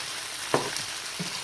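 Canned bamboo shoots get stirred into a sizzling vegetable stir fry, a continuous close hiss with a couple of quick spatula scrapes.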